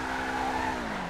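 A Benefactor SM722 sports car in GTA Online spins its wheels, making a loud, steady engine drone with a squealing tire whine that bends downward, heard alone at close range.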